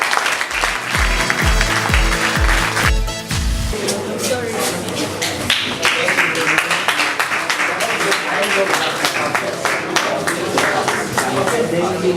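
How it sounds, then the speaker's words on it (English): An audience at a national debate championship in Togo bursts into loud, sustained applause for the American Embassy after a brief stretch of music. The clapping stays thick and continuous for several seconds, with some voices underneath. "I would like everybody to clap for the American Embassy."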